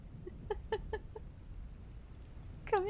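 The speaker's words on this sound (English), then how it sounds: "All at once we heard the crow of a cock coming up" A rooster, heard as a string of four quick clucking calls followed by the start of a louder crow at the end. The calls sound moderately distant over a low rumbling background, with no talk.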